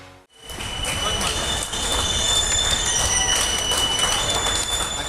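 Trains carrying migrants depart for Uttar Pradesh, giving a close, continuous rumble of rolling railcars with high squealing wheel tones that hold steady after a brief quiet start.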